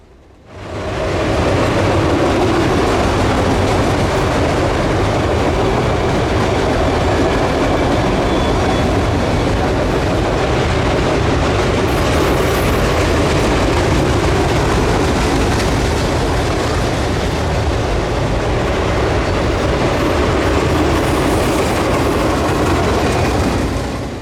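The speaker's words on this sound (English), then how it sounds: "And following the stacks comes the autorack cars." A CPKC freight train's autorack cars roll past at close range in the Ouachita Mountains, a steady loud rumble with rhythmic clickety-clack of wheels on rail joints throughout, no voices.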